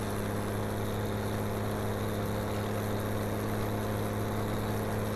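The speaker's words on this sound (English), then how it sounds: "This tractor is loud, though." A farm tractor engine idles steadily in Farming Simulator, a continuous loud mechanical hum with a deep low drone and no breaks, running alone at close range for the whole stretch.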